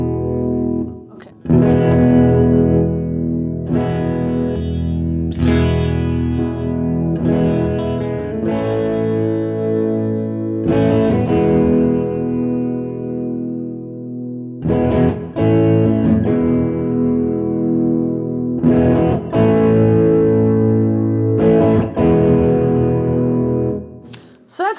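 Electric guitar through a Fender Hammertone overdrive pedal with the gain all the way down, giving a dark, mildly driven tone; loud chords and riffs are played close, with several sustained passages and short pauses.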